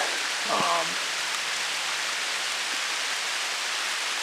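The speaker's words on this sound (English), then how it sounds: "This rain is killing me today." Steady rain falling outdoors during a deer hunt on an overcast day, a constant even hiss throughout with a brief faint voice near the start.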